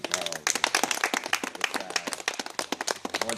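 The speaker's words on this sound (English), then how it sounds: "So round of applause for Eddie and Carl." Audience clapping for two people at an international clinic, a fairly close, uneven patter of individual claps mixed with voices and cheering throughout.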